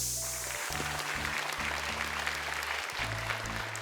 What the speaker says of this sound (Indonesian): Boleh tepuk tangan untuk 3 peserta kita